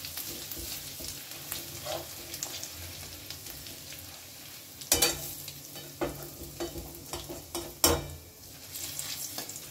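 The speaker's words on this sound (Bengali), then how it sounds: "আদা দিয়েও বেশ কিছুক্ষণ আমি নেড়ে নেব, যাতে আদার কাঁচা গন্ধটা চলে যায়" Grated ginger is stirred in a frying pan over a low flame: a soft continuous sizzle with spatula scrapes and a couple of louder metallic knocks against the pan, no voices.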